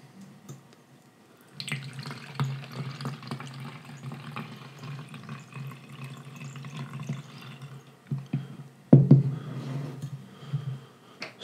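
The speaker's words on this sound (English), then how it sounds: "So I'm going to mix 2 ounces of our water in with that." Water poured into a terrain wash mix, a steady trickling stream lasting several seconds, followed by a few close drips and splashes near the end.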